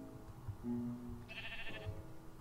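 A sheep bleats a few times at moderate distance in a corral, short nasal calls over low background rumble and faint rustling.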